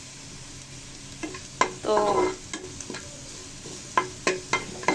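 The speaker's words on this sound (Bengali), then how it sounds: "পেঁয়াজ কুচি রসুন কুচি ভেজে নিব।" Chopped onion and garlic fry in a pan, a soft sizzle under repeated scraping stirs from a utensil. A single brief spoken word comes in partway through.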